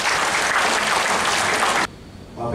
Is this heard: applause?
yes